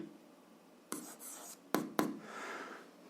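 Pen or pencil writing an algebra equation on paper: soft scratching strokes with a few sharper taps, close and quiet, with no talking.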